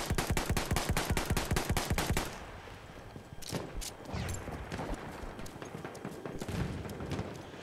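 Rapid bursts of an aircraft pilot's gun firing in the Battlefield 1 video game, a fast hammering volley for about two seconds, then scattered crackling shots and distant battle noise.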